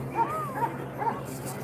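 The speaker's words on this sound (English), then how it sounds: "They got dogs out here, y'all." Police dogs at a crowded protest outside a detention center in Broadview, Illinois give a couple of whining, yelping barks amid crowd noise and a steady hum.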